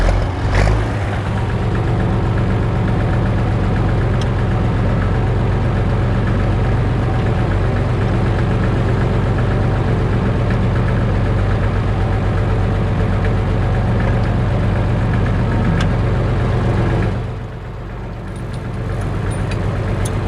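A Massey Ferguson 95X tractor with a six-cylinder engine idles steadily and loudly, a dense continuous rumble that dips briefly near the end before picking back up.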